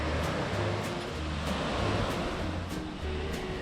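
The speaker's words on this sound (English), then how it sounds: "I love the sound of water." Water flows along a trail through cow pastures, a continuous close rushing hiss with soft low gurgling pulses, heard alone with no talking.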